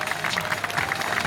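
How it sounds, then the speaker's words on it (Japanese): Audience clapping at a character variety stage show, a short burst of dense, even applause from a crowd. "拍手"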